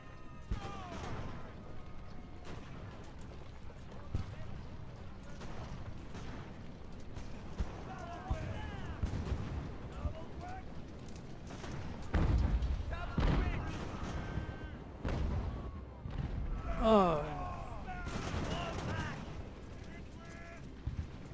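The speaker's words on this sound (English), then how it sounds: "if he shoots, he's gonna kill my guys too" Naval cannon fire from an age-of-sail battle video game booms in scattered heavy blasts and crashes over a dense background, with someone talking throughout.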